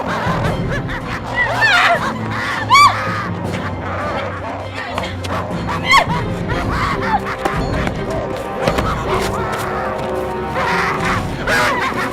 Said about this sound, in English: Was that a scream? Yeah, it was.